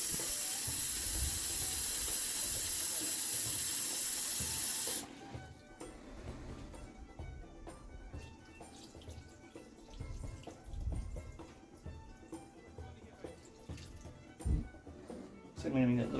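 Water gushes loudly and steadily into a cooking pot of food for several seconds, then cuts off, leaving quieter kitchen clatter and soft handling noises.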